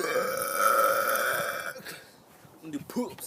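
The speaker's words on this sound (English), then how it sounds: "I know you like loud burps." One long, loud, drawn-out human burp, close to the listener and sustained with a droning, resonant tone for over a second, then trailing off into a person talking.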